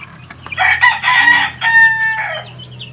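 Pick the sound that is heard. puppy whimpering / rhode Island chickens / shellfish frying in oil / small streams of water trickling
rhode Island chickens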